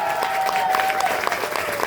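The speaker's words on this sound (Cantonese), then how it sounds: "俾多一次掌聲。" Audience applause after a musical-theatre curtain call in Hong Kong, a steady wash of clapping with a faint sustained tone running through it.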